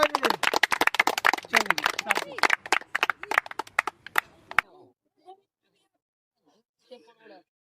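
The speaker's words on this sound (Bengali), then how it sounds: "ইমতিয়াজের জন্য একটা তালিয়া হয়ে যাবে না?" An audience claps for Imtiaz during a 50 push-up challenge: a dense burst of applause, fairly close, runs for several seconds with voices mixed in, then stops abruptly, leaving a few faint scattered sounds.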